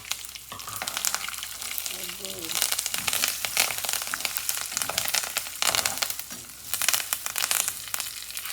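Seeds frying in a pan for Rayalaseema-style karam borugulu, giving a dense, loud, crackling sizzle with stirring scrapes, while a voice speaks briefly over it.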